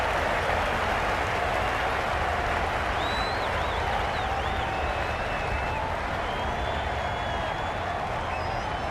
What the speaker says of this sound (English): The crowd are loving every minute of this game.